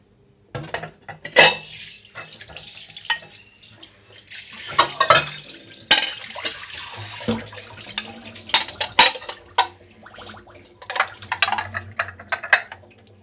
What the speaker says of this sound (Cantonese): 攞3個碟，首先要洗一洗佢先。